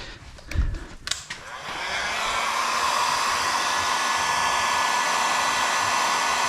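A heat gun switches on after a couple of brief handling knocks and then blows steadily and loudly, warming vinyl graphics film during a graphics install, with no talk over the constant airy roar.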